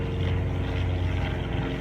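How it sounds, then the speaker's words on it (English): Airplanes flying overhead during a total eclipse give a steady low engine drone with a propeller-like hum, constant and moderately loud throughout, with no voices. "Planes are flying over."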